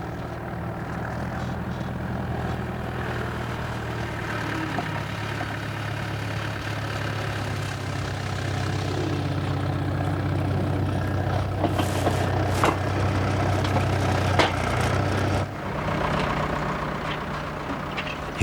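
A JCB 525-58 Loadall Farm Special telehandler engine runs steadily with a deep, continuous drone, loud and close, swelling slightly midway, with no talk over it.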